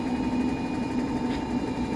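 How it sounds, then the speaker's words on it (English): A washing machine winding down, giving a steady, close mechanical hum with a faint whine and no talking. "my washing machine is starting to wind down"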